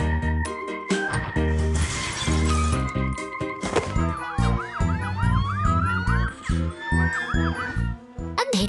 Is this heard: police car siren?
yes